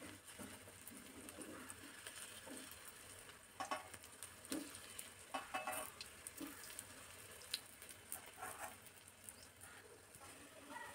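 Potato tikka coated in gram flour frying in hot oil: a faint, continuous sizzle with scattered sharp crackles and pops, heard quietly and fairly close.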